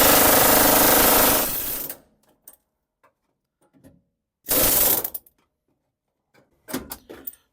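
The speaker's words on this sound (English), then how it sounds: "now I'm just going through here with the air chisel and busting out the welds" Air chisel hammering out spot welds on the floor pan of a 1971 Chevrolet Nova: a loud, dense rapid-fire rattle for about two seconds, then a second short burst, with scattered clanks and taps in the quiet between.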